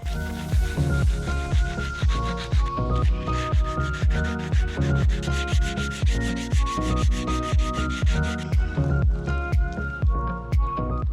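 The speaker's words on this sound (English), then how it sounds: "So we need to get this sanded down to bare metal and then we'll get it filled in." Sanding of a 2010 Citroen Berlingo XTR body panel down to bare metal produces steady, loud, rhythmic rasping strokes repeating evenly and close up throughout, with no talk.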